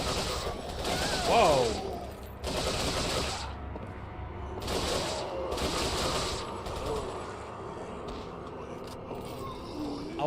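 A newly picked-up gun fires in Resident Evil 4 (Absolute HD mod) in several heavy bursts of rapid shots separated by pauses, with mechanical clacks between them and a brief exclamation from a man.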